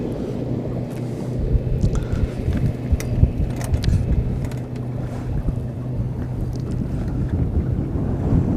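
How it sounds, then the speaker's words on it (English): Steady wind buffets the microphone on a fishing boat chasing brown trout, a constant low rushing roar with gusty swells and faint water slap, no voices. "That wind is not only pushing us down, but across a little bit too"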